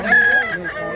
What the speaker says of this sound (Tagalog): Ang manok, bullstag.